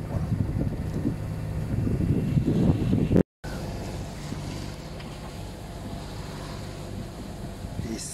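A sailboat motoring under its engine in light wind gives a steady low drone with wind rushing over the microphone, broken by a brief dropout partway through, no talk.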